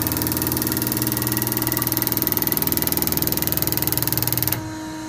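A nitrous system fuel solenoid is pulsed at 20 hertz and 15% during a bench flow test, giving a rapid, even mechanical buzz of regular clicks that is loud and close, then cuts off abruptly near the end.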